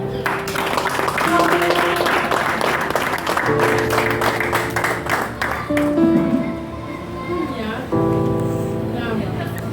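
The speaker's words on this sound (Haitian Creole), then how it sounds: "Applaudissez s'il vous plaît." An audience claps loudly and continuously while sustained musical tones and a voice carry on underneath, the applause thinning slightly partway through before continuing.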